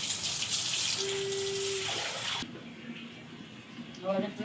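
Water poured from a pot onto a floor to rinse it, a loud splashing gush that stops abruptly midway, followed by quieter trickling and someone talking.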